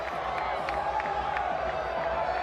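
A boxing arena crowd cheers and claps after a bout, a dense steady roar of distant voices with scattered whoops and applause.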